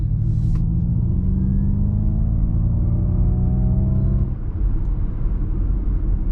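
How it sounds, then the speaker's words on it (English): Ford Mustang Mach-E electric motor accelerating in vibrato mode, a low synthetic droning rumble with slowly rising tones, steady and moderately loud, easing slightly near the end. "This is vibrato mode under acceleration."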